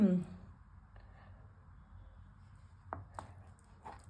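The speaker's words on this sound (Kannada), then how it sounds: "ಇದನ್ನು ಇವಾಗ ಚಿಕ್ಕ ಕಟ್ ಮಾಡ್ಕೊಬೇಕು" Knife cutting paneer into slices for a paneer ghee roast, a few sharp cuts against a board heard close and quiet, spaced out near the end, following a brief voice at the start.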